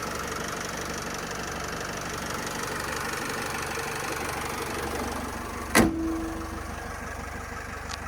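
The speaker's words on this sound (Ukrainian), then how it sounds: "Тут робота мотора" A Renault Trafic 2010 van's 2.0-litre 115 hp engine idles with a steady, even drone throughout, with a brief sharp click or thump near the end before the hum carries on.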